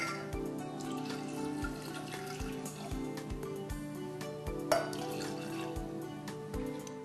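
Water runs from a tap into a saucepan of carrots, a steady splashing stream that continues throughout at close range, with faint background music and no talking.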